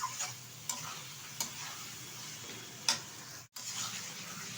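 Mutton sautéing with ground spices in a pan gives a steady close sizzle, broken by a few sharp scrapes of a spatula and a brief dropout near the end.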